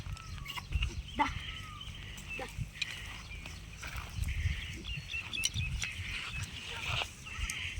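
Several goats on a farm bleating at intervals among general barnyard noise, with some movement and shuffling throughout.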